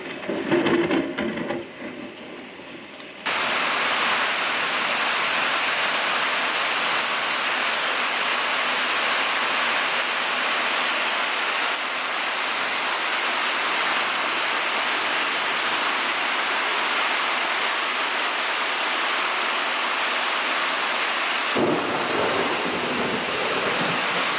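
Heavy thunderstorm rain pours down in a steady, dense roar, starting after a brief quieter moment and continuing unbroken almost to the end.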